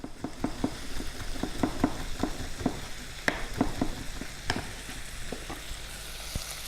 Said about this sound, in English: So now that our onions and garlic are nearly cooked, they're starting to go clear and the ham's starting to fill the air with its aromas.